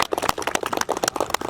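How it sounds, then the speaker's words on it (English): Hand clapping, a rapid run of sharp, close claps in quick irregular succession, fairly loud, with no talking. "Clap."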